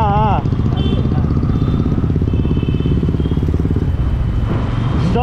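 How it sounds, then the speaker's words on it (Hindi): A BMW S1000 RR superbike with its stock exhaust roars loud and close on a Kolkata city ride, its engine note rising and falling continuously while voices are heard over it. "देखिए BMW S1000 RR।"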